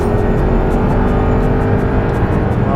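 A 2009 Audi R8 engine held high in the revs near 7,000 rpm, a loud steady mechanical roar with a rising whine at the end, no voices over it.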